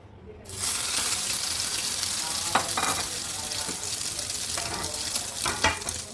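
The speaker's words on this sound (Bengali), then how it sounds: "এইভাবে আমি সবগুলো একটা একটা করে ভেজে নেব" Snack pieces frying in a little oil in a pan, a steady loud sizzle that starts abruptly and runs throughout, with a few brief clinks and scrapes as the pieces are handled.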